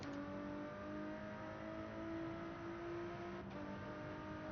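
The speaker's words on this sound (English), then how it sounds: "I hit the rev limiter" A race car in Gran Turismo 7 held at a high, steady engine whine against the rev limiter, a continuous droning tone with a slight dip near the end and no talk.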